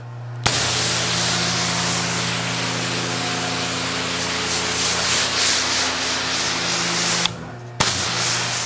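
Water spray rinses a Porsche GT3 during paint decontamination, a loud continuous hiss that runs steadily for several seconds, stops briefly, then resumes.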